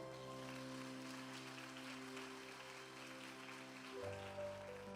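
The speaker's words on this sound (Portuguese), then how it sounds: "Posso ouvir palmas para o Senhor?" Church congregation applauding, a dense steady wash of clapping over sustained organ or keyboard chords, continuing evenly throughout with a slight swell near the end.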